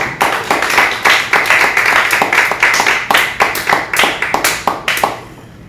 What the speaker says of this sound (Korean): 구성재 대표님 앞으로 모실 때 박수 부탁드립니다